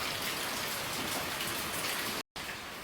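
Steady rain falls outside a home, a dense even hiss of drops on surfaces with no talk, briefly cut by a short silent gap near the end.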